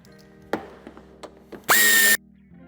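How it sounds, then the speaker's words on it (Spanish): A power screwdriver removes a screw from an interior trim panel of a 2017–2020 five-door Skoda Octavia III in one loud, short whirring burst. Light clicks and handling knocks come before it. "Retiraremos también esta parte de tapizado, quitando el tornillo de la parte superior."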